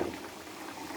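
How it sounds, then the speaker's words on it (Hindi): Water at a rolling boil in a cooking pot, ready for rice in a keema matar pulao, gives a steady, close bubbling hiss for a brief moment with no voices. "पानी उबल गया है"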